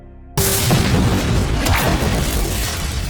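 A loud explosion blasts open the server room door in an action film, a sudden boom followed by a sustained roaring rumble and crashing debris that fills the remaining seconds at high level.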